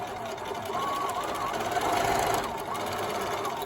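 Sewing machine running a continuous stitch along a quarter-inch fabric seam on a washable cloth mask, steady, close and loud with a faint whirring hum throughout.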